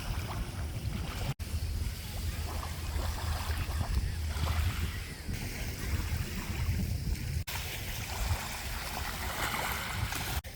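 Wind and waves along the Amelia River shore near a fort, a continuous rushing wash with low rumbling gusts and a couple of brief dropouts, fairly faint overall.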